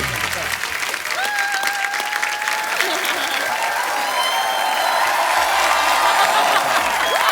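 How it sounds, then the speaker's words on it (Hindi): A TV show studio audience applauds loudly and cheers for guests Jacqueline Fernandez and Sidharth Malhotra. The clapping is a dense, sustained roar with some whoops, and voices are heard over it. "जोरदार तालियां जैकलीन और सिद्धार्थ मल्होत्रा के लिए।"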